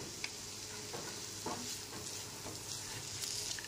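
Vegetables fry in a pan over a low-to-medium gas flame for a Bengali poha pulao with cashews, making a quiet steady sizzle with a few soft spatula stirs spread through, close by and without speech.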